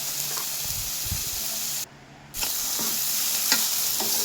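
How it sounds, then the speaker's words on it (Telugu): Onions fry with salt in a pan, giving a close, bright sizzle with stirring scrapes, a brief dropout in the middle and then the sizzle resuming steadily. "అందులోనే ఆనియన్స్ వేసి వేయించుకోవాలి. అది వేగడానికి కొద్దిగా సాల్ట్ వేసి వేయించుకుంటే త్వరగా వేగిపోతుంది."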